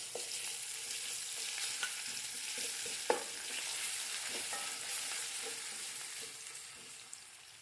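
Ginger garlic paste frying in a chicken curry, a dense, even sizzle with occasional sharp spoon taps against the pan, close and steady with no voices.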